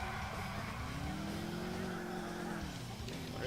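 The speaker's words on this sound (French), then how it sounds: "c'est une voiture de drift" Drift car in GTA 4 holds a steady revving engine drone with a rising then falling pitch sweep and faint tire noise, continuous and fairly close, with no talking.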